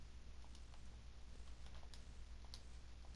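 Quiet, light key clicks from typing on a computer keyboard, scattered irregular taps over a steady low room hum, with no voices.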